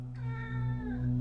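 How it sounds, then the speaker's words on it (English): A house cat meows in the background, a sustained, drawn-out call that holds steady and swells slightly toward the end, fairly close and clear with no talk over it. "That's my cat talking in the background."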